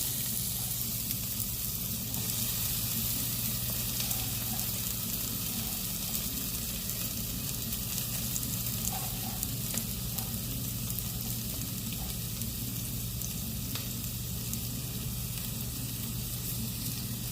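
Fenugreek seeds and chopped shallots sizzle steadily in hot oil for a Tamil brinjal and drumstick kara kuzhambu. A continuous close frying hiss runs with small pops and faint stirring, and no one speaks.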